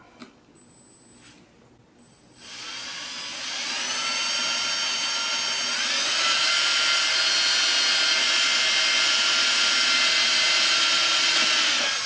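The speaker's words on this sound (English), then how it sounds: "So I just have to very carefully drill this hole." Power drill boring slowly through the leather of a cowboy boot, a steady whining motor that builds after a brief start and holds loud and close to the end, with no talking.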